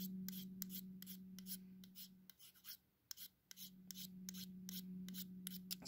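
A knife blade scraping black coating off a thin rod, with a series of short, faint rasping strokes in a quick rhythm over a steady low hum.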